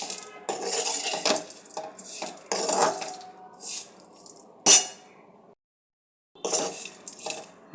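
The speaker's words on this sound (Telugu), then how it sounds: "శుభ్రంగా కలుపుకోవాలి" A spoon scrapes and clinks against a metal pan while stirring a vegetable curry with salt and tempering, in uneven bursts with one sharp ringing knock and a short silent pause.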